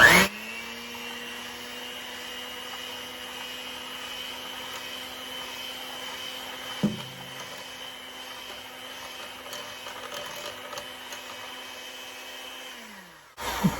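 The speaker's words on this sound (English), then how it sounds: "Okay, we're just going to mix this real quick." An electric mixer whirs steadily through cookie batter flavored with vanilla, a close, constant motor hum that runs for about thirteen seconds before winding down and stopping, with a brief clunk midway.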